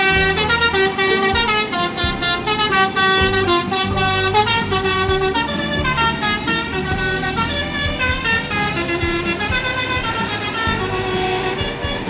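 Musical telolet horn on an Indonesian bus at Terminal Busur, playing a loud, continuous run of shifting tooted notes for about twelve seconds with no talking over it.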